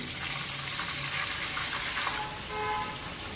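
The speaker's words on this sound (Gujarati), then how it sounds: "થોડુંક પચાસ ગ્રામ જેવું પાણી નાખી દઈએ" Steady sizzling and bubbling fills the clip as water is added to hot tempering oil while making patra, a continuous hissing crackle with no voices.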